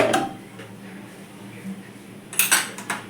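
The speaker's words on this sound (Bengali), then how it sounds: "প্রথমে গ্যাস জ্বালিয়ে আমি কড়াই বসিয়ে দিলাম" A metal wok is set down on a gas stove at the start of cooking an all-vegetarian potato and pointed gourd muri ghonto, giving a couple of brief clinks near the end over a quiet kitchen.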